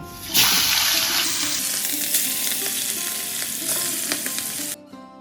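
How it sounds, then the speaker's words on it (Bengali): Hilsa fish pieces rubbed with salt and turmeric fry in hot oil with a loud, crackling sizzle that bursts in abruptly and stays steady, alongside a few clatters and stirring sounds, then cuts off near the end. "এবারে নুন হলুদ মাখানো ইলিশ মাছগুলি আমি ভেজে নেব"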